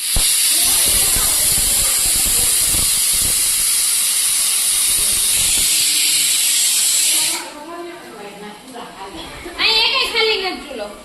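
Vegetables being tempered in hot oil give a loud, steady sizzling hiss that runs for several seconds and then cuts off abruptly, followed by quieter talk.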